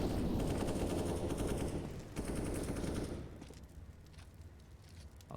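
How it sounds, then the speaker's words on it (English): Dense bursts of automatic gunfire from a Counter-Strike match in an ESEA Open playoff game, loud and continuous for about three seconds, then thinning to scattered distant shots and faint footsteps. "The gunshots do give away that there's a few of them there."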